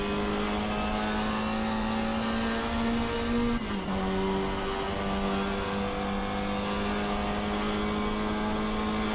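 A Jaguar E-Type race car's engine drones loud and steady in the video game Assetto Corsa at Goodwood Revival. The pitch dips briefly midway through a gear change, then holds a sustained note.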